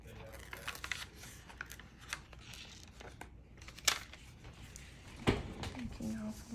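Paper or a sticker's backing peeled away during a prayer-journal craft session, giving a few dry crinkling and tearing rustles with a sharper rip near the end, close and quiet amid a person talking.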